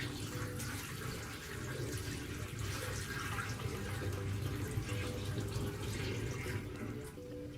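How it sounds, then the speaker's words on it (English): Water from a bucket pours and splashes into a sink during a foot-care procedure, a faint continuous rush at close range. "go ahead and dump the water into the sink"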